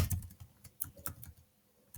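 Quick keystrokes on a computer keyboard as a web address is entered, a close, uneven run of light clicks and taps with short pauses, no talking.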